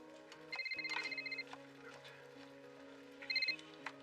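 A telephone rings out on an outgoing call, two bursts of electronic trilling ring tone separated by a pause, heard alone over a quiet low hum.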